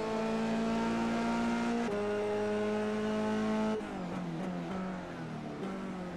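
Formula 3 race cars in iRacing at Spa-Francorchamps, several high-revving engines screaming past in close succession with upshifts and pitch drops, loud and continuous with no voices.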